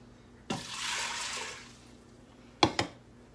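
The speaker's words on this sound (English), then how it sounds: "So I'm gonna add actually 8 cups of water" Water poured into the inner pot of a quick cooker, a brief splashing rush lasting about a second, then two sharp knocks of the container, faint and close.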